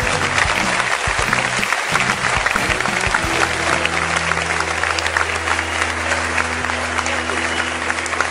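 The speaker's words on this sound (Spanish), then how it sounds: "¡Date el aplauso para Sangui!" Studio audience on a Sunday night TV variety show breaking into loud, continuous applause, a thick, even roar of clapping over a steady low tone that lasts throughout.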